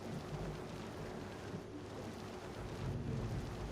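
Steady rain falling in Farming Simulator 25 on a farm, a continuous dense hiss with low rumbling swells like distant thunder, alone and fairly faint throughout.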